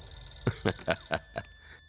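A telephone ringtone in a Hindi comedy film scene gives five quick, bright electronic ring pulses in an even rhythm, fairly close and alone with no talking.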